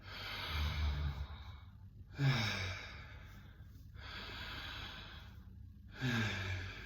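Deep breathwork breathing, belly breaths drawn in and pushed out in slow repeated cycles, with long airy exhales and sighing breaths close to the microphone and no talk.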